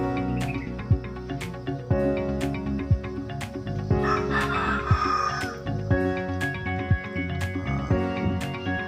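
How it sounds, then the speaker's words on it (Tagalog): Rhode Island Red chickens in a grower pen on a chicken farm cluck and call steadily, with a few sharp, crowing-like bursts standing out over a continuous background of bird noise. No one speaks. "update din tayo sa ating Rhode Island Red mga ka-best friend"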